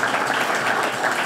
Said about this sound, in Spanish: con un fuerte aplauso, por favor, en esta velada